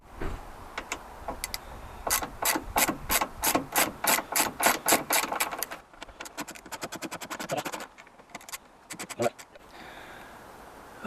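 A ratchet undoing Torx T25 screws on a Land Rover Discovery 2 driver's door during lock actuator replacement, a rapid run of loud evenly spaced clicks followed by a softer, more irregular ratcheting.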